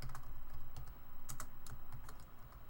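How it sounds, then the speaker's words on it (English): Someone types a name on a computer keyboard, a steady run of quick, soft key clicks close by with no talking. "The first thing we're going to do is type our name."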